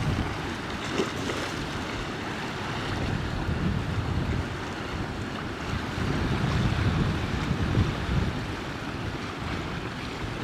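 Big sea waves roll in and break on the shore at a bass-fishing spot, a steady loud rushing roar that swells in surges, mixed with gusty wind buffeting the microphone.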